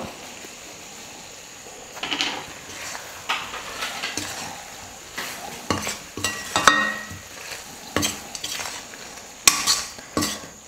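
A spoon scrapes and stirs masala into a sizzling chicken gravy in a pan, in repeated uneven strokes and clinks over a continuous low frying hiss.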